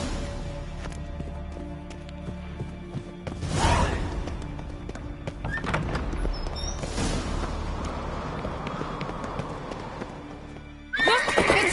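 Horses in a mounted chase, hooves clip-clopping in a busy rhythm with whinnies and whooshing movement, loud and close, ending in a sharp burst of activity.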